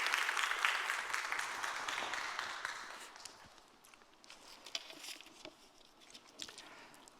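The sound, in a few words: congregation applauding to welcome the pastor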